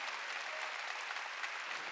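A church congregation applauds during a Wednesday worship service, a faint, dense, continuous wash of clapping heard from a distance with no voices on top.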